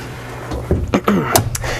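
A storage compartment lid in an FR3 motorhome is pulled up, giving a few brief knocks and thunks close by against a quiet room hum.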